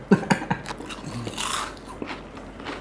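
Crunching bites into Lay's Max spicy chili potato chips, with a few sharp, close crunches at the start followed by softer chewing.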